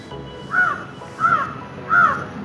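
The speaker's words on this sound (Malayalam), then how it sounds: "കാക്ക വന്നിരുന്ന് വിളിക്കുന്നുണ്ട്." A crow caws three times at a temple viewpoint at Thirichitta Para, Thirichittoor, near Trivandrum. The harsh calls come at even intervals of about two-thirds of a second, fairly close and clear over quiet surroundings.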